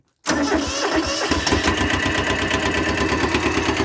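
An old small tractor engine cranks and catches at once, then settles into a loud, steady, chugging idle close by.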